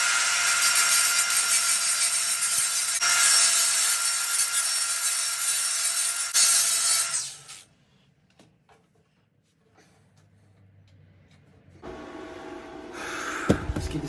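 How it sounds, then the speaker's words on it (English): An angle grinder strips paint from a painted metal surface while preparing racing lawnmower parts for welding, a loud continuous grinding that runs for about seven seconds, then stops, followed by quiet handling noises. "I'm going to try and get a little bit of paint off with the grinder"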